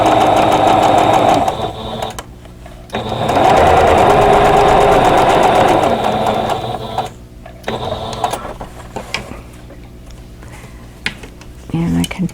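A sewing machine stitches a quilt block for a vintage magnolia bud design, running in loud sustained bursts with short pauses between, its motor whir steady and close.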